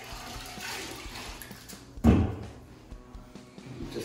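A cloth rag used for caulking is plunged and swished in a bucket of water, giving a sudden splashing burst midway that trails into quieter sloshing and dripping, with faint background rustle before and after.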